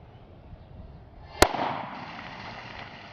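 A single loud, sharp Glock 19 pistol shot fired from about five or six feet into a row of water balloons, followed by a burst of splashing spray that fades into a hissing tail.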